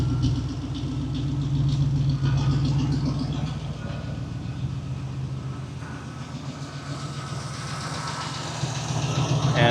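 A 1960 Studebaker Lark Regal VIII V8 idles close by, giving a steady, even low rumble that holds without revving throughout.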